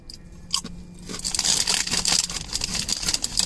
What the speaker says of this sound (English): It's a good crunchy tortilla chip.